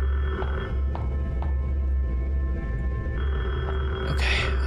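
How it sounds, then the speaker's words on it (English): A telephone rings in the horror video game Detention, a repeated electronic trill pulsing over a steady low hum and dark ambient drone, with a brief sharper noise near the end. "The phone's ringing, holy shit."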